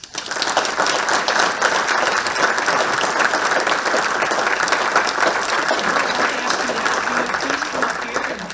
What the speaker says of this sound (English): Can we give them also a round of applause?